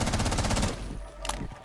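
Pre-firing gunfire in Rainbow Six Siege: a rapid automatic burst of evenly spaced shots for under a second, then fading to a quiet tail with a faint click, with no talking.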